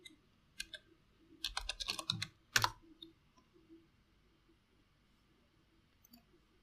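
Typing on a computer keyboard, close and fairly quiet, with a few sparse key clicks followed by a dense burst of rapid keystrokes and a final sharp cluster, then near silence.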